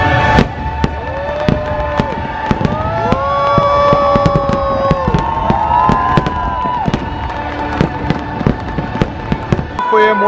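Fireworks show at Magic Kingdom in front of Cinderella Castle: a dense run of loud pops and crackling bursts with rising whistles, over show music and a murmuring crowd, with voices talking nearby.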